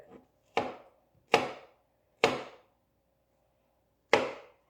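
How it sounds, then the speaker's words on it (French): A knife cutting a tomato on a board, four distinct chops spaced out in an unhurried rhythm, close and clear against an otherwise quiet background. "Ma tomate. Je vais un peu couper."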